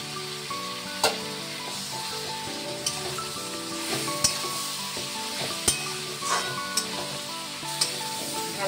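Ginger, garlic and green chili paste sizzles steadily in a hot pan while being stirred, with a constant frying hiss broken by occasional sharp scrapes and clinks of the spoon.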